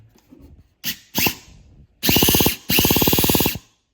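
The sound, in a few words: Traxxas EZ-Start starter spinning over nitro engine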